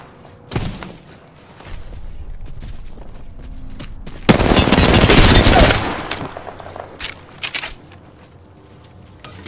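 Gunfire in the Apex Legends video game: a few sharp shots, then a dense burst of rapid automatic fire mid-way, followed by scattered single shots and mechanical clicks, loud and close.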